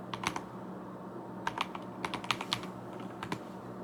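Fingers tap on a computer keyboard in bursts of quick, crisp key clicks with short pauses between them, close and fairly quiet over a steady background hum.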